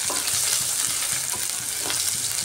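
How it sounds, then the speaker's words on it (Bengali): Crushed ginger and garlic frying in a pan, a dense, loud, continuous sizzle and crackle heard up close with faint stirring beneath it, no voices. "আদা রসুনটা দিয়েও কিছুক্ষণ ভেজে নিচ্ছি।"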